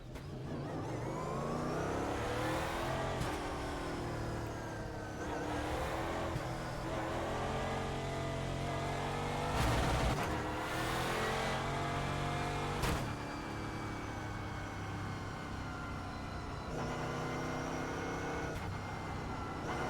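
A Euro NASCAR V8 stock car in the iRacing sim roars continuously at close range, its engine note climbing through the gears with brief dips at each shift and steady high revs throughout.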